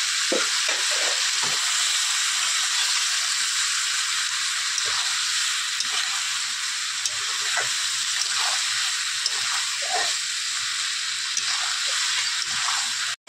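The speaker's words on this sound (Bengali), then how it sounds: "দিয়ে ভালো করে কষিয়ে নেব মশলাটা দিয়ে" Spice masala sautéing in a pan, with a steady loud sizzle throughout and occasional scraping stir sounds. No voices.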